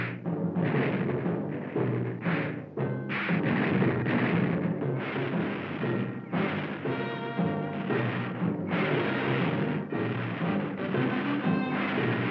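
Cartoon weapons firing in a battle between the giant robot Gigantor and a Cobra robot, a dense run of booming blasts and crashing explosions, loud and close, in rapid bursts with short gaps between them.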